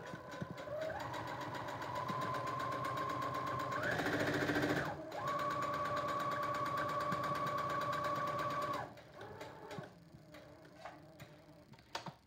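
A sewing machine stitches the white lining of a face mask with a close, rapid mechanical whir that speeds up briefly partway through and then stops, leaving a few clicks and handling sounds.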